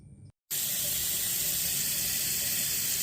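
Potatoes rinsed under a running kitchen tap, the water pouring steadily and loudly into a sink after a brief silent gap, continuous broadband rush with no talk.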